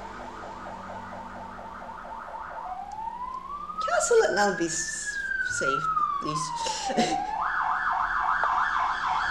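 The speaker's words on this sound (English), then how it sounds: "that was a loud ambulance" A loud ambulance siren wails and yelps close by, shifting from rapid yelps to a long rising-falling wail and back, with a person talking over it.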